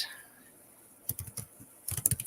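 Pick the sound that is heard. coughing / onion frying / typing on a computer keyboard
typing on a computer keyboard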